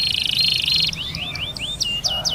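A young pet canary sings alone and close, trilling fast in a bright, buzzing run, then breaking into quick repeated rising chirps and whistles.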